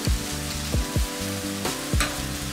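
Chilli powder and garam masala sautéing in a pan for paneer capsicum masala, a steady close sizzle broken by several scraping stirs of a spoon.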